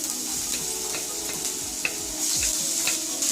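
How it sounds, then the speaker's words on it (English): Finely chopped garlic and ginger sauté in about a tablespoon of hot oil in a pan, a steady close sizzle and crackle with occasional stirring scrapes, growing slightly louder toward the end. "When the oil heats up, I'll add the finely chopped garlic and ginger"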